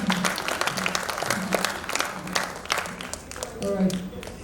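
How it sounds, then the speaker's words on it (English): Students in a panel-session audience clap for their teacher, scattered applause running steadily with voices mixed in. "Students, it's time to clap for your teacher"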